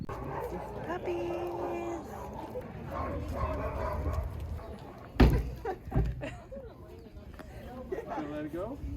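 Puppies yip, whimper and bark in short bursts close by, mixed with people talking over them, with a sharper loud yelp partway through.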